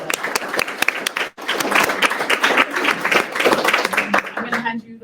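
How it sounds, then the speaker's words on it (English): An audience claps and applauds steadily for several seconds, with cheering voices mixed in, then the clapping fades out. "you can clap"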